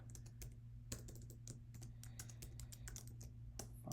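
Typing on a computer keyboard, a quick run of close, crisp key clicks in an uneven rhythm over a low steady hum, with no talking.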